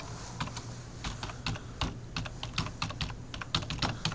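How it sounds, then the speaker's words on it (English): Keys clack in irregular bursts as someone types on a computer keyboard nearby, crisp taps with short pauses between them. "Typing, typing, typing."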